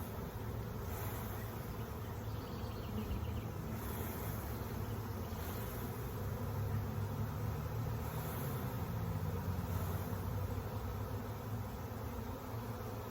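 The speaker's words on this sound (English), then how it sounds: "This seems like a ridiculous amount of bees," A dense swarm of honey bees hums continuously around an open beehive, a thick, close, unbroken buzz with faint rustling underneath.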